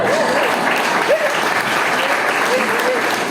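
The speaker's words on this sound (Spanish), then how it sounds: "Denle un aplauso a mi suegra." A church audience breaks into loud, sustained applause during a sermon, filling the whole stretch, with a few voices audible underneath.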